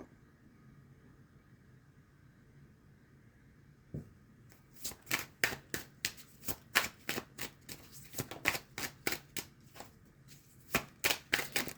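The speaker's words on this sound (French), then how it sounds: "Je reprends les cartes." Playing cards are gathered and then shuffled, a quiet stretch giving way to a rapid series of crisp riffling flutters and slaps, close and clear with no talking over them.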